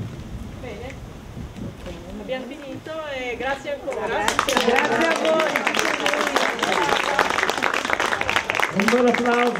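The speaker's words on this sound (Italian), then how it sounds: "Un bel applauso" An audience breaks into dense applause after an evening reading of water and fire texts, clapping swelling in midway and continuing strongly, with voices talking over it at first.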